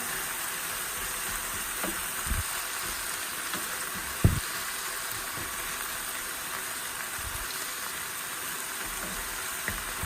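Hot pepper frying in sesame oil over high heat gives a steady, fairly loud hiss and crackle, with a few brief pops and one sharper knock near the middle, no voices.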